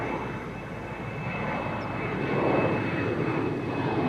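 A KLM airliner's engine roar swells and holds loud at Amsterdam Schiphol Airport, a broad steady rumble building toward the middle and staying strong to the end.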